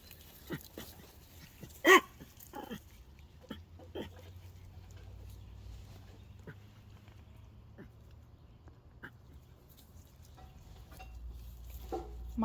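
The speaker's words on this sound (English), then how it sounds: "What are you barking at" A Chihuahua barking outdoors on a hot day. There are a few sharp, scattered barks, one loud one near the start and fainter ones later, over quiet background noise.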